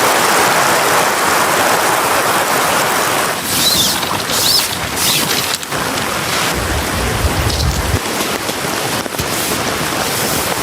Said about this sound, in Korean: 빗물이 타고 그라운드 시트로 떨어지면 이 밑에 이제 한강이 되죠